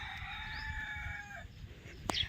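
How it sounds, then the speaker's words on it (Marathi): A rooster crows once in a long drawn-out call on a farm by a well, the crow fading out partway through over a steady outdoor background with a short sharp knock near the end. "कोंबड्यासारखं बाग देत बसतो"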